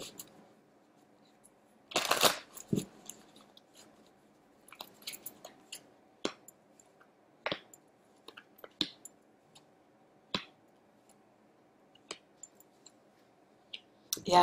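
Silver Witchcraft Tarot cards being shuffled by hand, heard as a loud riffling burst near the start and then a run of sharp, separate clicks and card snaps spread through an otherwise quiet room.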